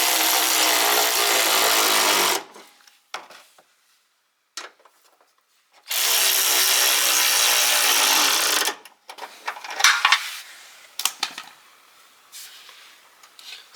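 Screws on a 1998 Honda Accord headlight are driven tight with a power driver in two long, steady, loud whirring runs, followed by scattered clicks and handling noises.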